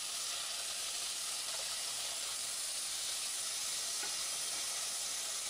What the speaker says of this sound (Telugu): ఇప్పుడు మనం ముందుగా సిద్ధం చేసుకున్న చింతపండు రసాన్ని అందులో వేసుకొని